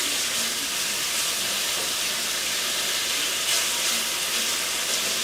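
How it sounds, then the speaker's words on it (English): Beef chuck roast sears in a hot pan, giving a steady broadband hiss and sizzle that runs evenly through the whole stretch with no voices. "I have to sear this beef"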